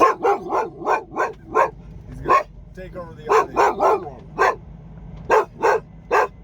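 A dog barks at another dog at a Petro Stopping Center truck stop in Laramie, with a dozen or so sharp, close barks in uneven bursts and a person talking between them.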